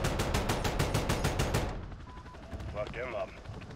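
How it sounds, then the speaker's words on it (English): Rapid bursts of automatic gunfire in a Call of Duty campaign firefight, loud and close for the first half, then fading to scattered distant shots with a brief electronic tone. "Who are they still shooting at down there?"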